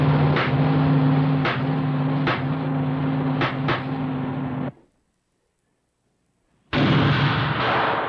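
A hydrogen-converted car engine with a timing problem hums at a low idle, broken by several sharp backfire pops from carburetor flashback. The sound then drops to near silence for about two seconds before the engine noise returns.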